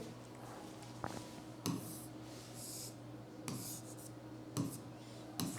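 Maths notes on geometry and position vectors written out by hand: faint, steady scratchy rubbing of pen on paper, broken by a few soft taps and sharper strokes. No voices are heard.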